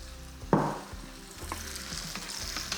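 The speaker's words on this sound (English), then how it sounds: "And then stir those two together. You're gonna have to stir quite a bit to try and emulsify all of that oil into our sauce." Arrabbiata chili sauce stirred together with oil in a pan for a fiery amatriciana dish, sizzling and scraping steadily, with one louder clatter of the spoon early on.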